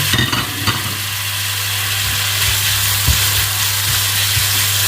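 Vegetables stir-fry in a pan with soy sauce and oyster sauce, a loud continuous sizzle with a few soft clanks of the utensil, over a steady low hum.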